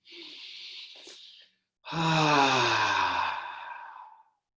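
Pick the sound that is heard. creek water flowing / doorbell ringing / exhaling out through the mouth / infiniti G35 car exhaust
exhaling out through the mouth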